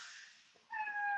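A nearby vehicle's brakes squeal as it stops: a short, thin, high-pitched whine that starts abruptly and holds steady, faint and heard on its own.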